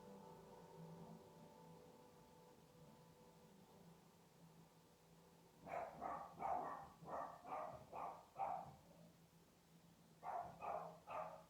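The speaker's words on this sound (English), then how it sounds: "On that note of my dogs barking, I'm sorry." Dogs barking indoors during a quiet Pilates session: after a calm stretch, a run of about six sharp barks, then a pause and three more, moderately near over low background hiss.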